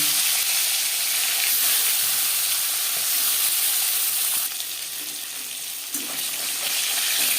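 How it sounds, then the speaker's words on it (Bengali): Aar fish frying in hot oil in a home kitchen, a steady broadband sizzle and hiss that runs throughout with a brief dip and small pops near the end, with no talk. "আবারও তেল দিয়েছি এবার আমি মাছ ভেজে নেব"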